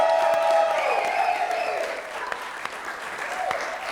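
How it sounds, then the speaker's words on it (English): A comedy-show audience applauds the comics, a dense burst of clapping that is loudest at the start and tapers slightly over a few seconds. "Let's please have another round of applause for our comics tonight"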